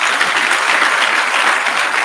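A convocation audience applauds, dense, steady clapping from many hands filling the hall at a constant loud level throughout.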